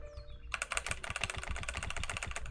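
Computer keyboard keys clatter in quick, steady typing on a gaming setup, starting abruptly after a short pause and continuing as a close, rapid run of clicks with no talk.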